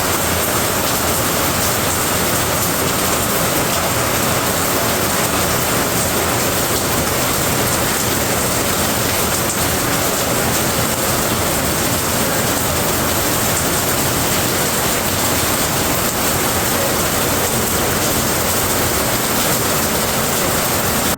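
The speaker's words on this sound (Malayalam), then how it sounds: "പുറത്ത് നല്ല മഴയാണ്." Heavy rain falling outside, a loud, unbroken wash of dense noise that holds steady the whole time with no pauses or other sounds.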